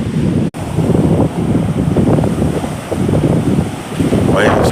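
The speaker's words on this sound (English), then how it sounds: "Waves crashing." Atlantic Ocean surf rolls and crashes onto a Puerto Rico shore, a loud continuous wash of breaking waves under heavy wind buffeting the microphone.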